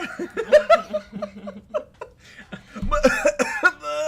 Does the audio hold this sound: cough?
yes